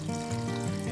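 Chicken stock splashes into a pot of fried vegetables over high heat, raising a brief burst of sizzling and bubbling liquid that lasts about a second.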